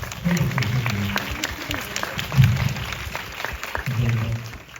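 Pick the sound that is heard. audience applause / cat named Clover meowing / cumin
audience applause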